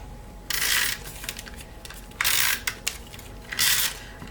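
Adhesive being applied to the flap of a Z fold paper card, heard as three short bursts of crisp, close, hissing rasps separated by quiet pauses, with faint tapping between them.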